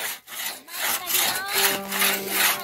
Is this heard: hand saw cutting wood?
yes